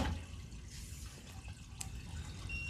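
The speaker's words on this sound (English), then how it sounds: "Water's running." Water runs through a sanitary sewer line at the point where the pipe changes to cast iron under the dirt, a steady close trickle with a few scattered drips.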